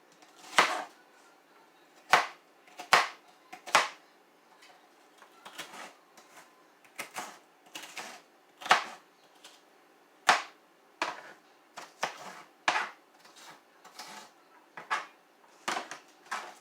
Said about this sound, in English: Now I'm going to peel and chop my onion